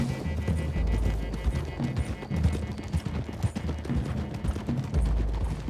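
Several horses gallop together in Red Dead Redemption 2, their hooves pounding in a loud, steady, continuous rhythm through the whole stretch, with no pause in the running.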